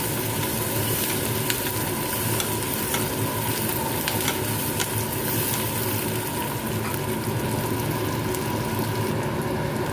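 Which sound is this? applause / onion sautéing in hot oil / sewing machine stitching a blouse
onion sautéing in hot oil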